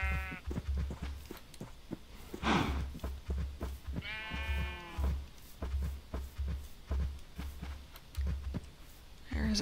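Sheep in the farming area of the video game New World bleat several times, with wavering calls over a steady low in-game background hum and footstep-like thumps.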